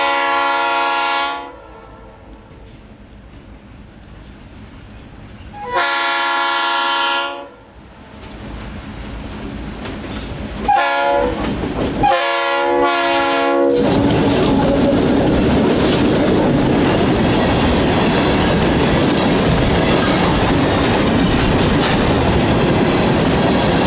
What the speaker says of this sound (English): Watch the train shake the ground at our next location.